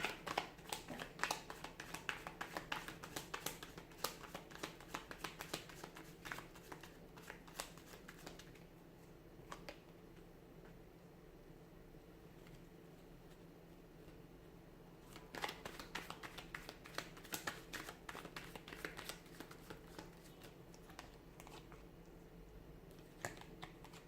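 A deck of tarot cards is shuffled by hand in long rapid riffling bursts, close and fairly soft, with a quieter pause of light handling in the middle.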